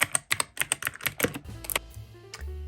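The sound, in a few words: typing on mechanical keyboard with blue switches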